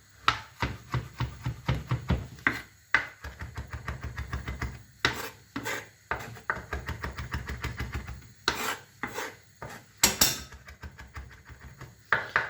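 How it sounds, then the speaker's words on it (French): Knife chopping freshly washed parsley on a cutting board in a home kitchen, a close, steady run of quick rhythmic taps and scraping strokes with brief pauses, no voices. "avant de me mettre à hacher mon persil, qui a été bien sûr préalablement lavé"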